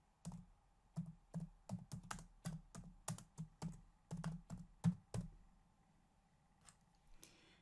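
Typing on a computer keyboard, a run of about a dozen crisp, close keystrokes in an uneven rhythm that tails off into a few faint taps, with no talking.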